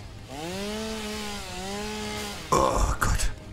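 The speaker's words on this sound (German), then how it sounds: "Wo ist meine Kettensäge?" Chainsaw in the video game Satisfactory, an engine revving with a rising and falling whine, then a loud rough burst of cutting for about a second before stopping.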